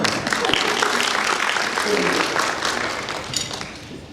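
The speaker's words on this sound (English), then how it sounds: "Now, a round of applause." Audience applause at a sustainability symposium hosted with a chamber of commerce, a loud burst of clapping that holds and then fades near the end, with voices mixed in.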